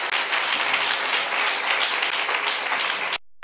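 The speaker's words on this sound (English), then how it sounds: "Clap hands for yourself." Church congregation clapping hands, a full, thick applause from a crowd, loud and unbroken until it cuts off abruptly near the end.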